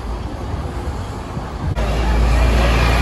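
City traffic roars at close range in Hong Kong's Kowloon area, and midway a double-decker bus's engine surges louder and holds as it passes.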